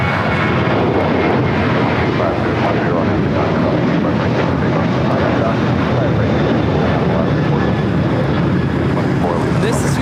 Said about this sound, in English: 1147 taking off to Bozeman on the 737-800